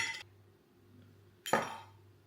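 A metal spoon clinks against a glass bottle as raw local honey is spooned in, giving two short bright clinks separated by a quiet pause, each with a brief ringing decay.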